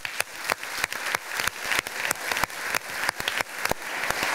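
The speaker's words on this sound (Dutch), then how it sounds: "ik vraag u een heel warm en gemeend applaus voor de commissie" An indoor audience gives a warm round of applause for a committee, with loud, close, steady clapping and sharp individual claps throughout.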